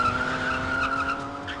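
A British sports car in the arcade game OutRun, its engine droning steadily under a sustained tyre squeal as it skids.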